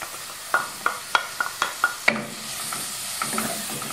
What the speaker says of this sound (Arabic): البصله ديالنا ها هي كيف كتشحر هنا